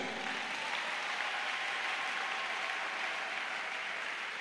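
A church congregation applauds in a steady, dense wash of clapping that holds at an even level from start to finish, with no voice over it.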